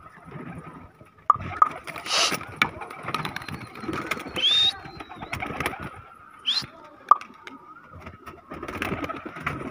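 A sick pigeon cooing softly at close range in intermittent low calls, along with scattered wing flutters and small mechanical clicks and rattles.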